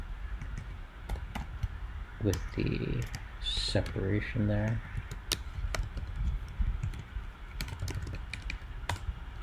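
Clattering computer-keyboard typing in quick bursts of sharp clicks, close by, with someone talking over parts of it.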